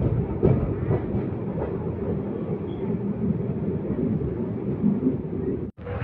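The Simhadri Express pulls out of Bimmidolu station, heard from inside the train as a steady low rumble with faint wheel clatter throughout, ending with a sharp brief knock near the end.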